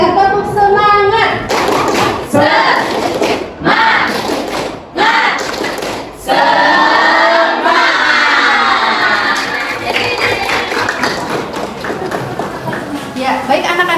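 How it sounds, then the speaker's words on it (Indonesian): A school class performs the rhythmic tepuk semangat clapping chant, children's voices chanting together with sharp group claps and thumps in short bursts, followed by lively shouting and cheering from the room. "Kita tepuk semangat."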